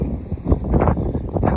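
Strong wind buffeting the microphone on a cloudy, chilly moorland tor during a solo wild camp, a loud low rumbling roar with gusty swells, continuous and close.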